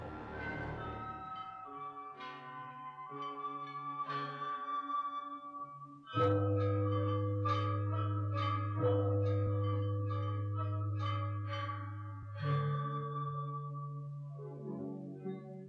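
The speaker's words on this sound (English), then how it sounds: "The bells are played by mallets and create the sounds of 7 musical scales." Bronze bianzhong chime bells struck with mallets ring out in a melodic sequence, each strike blooming and sustaining, with a deeper, louder cluster of tones entering midway.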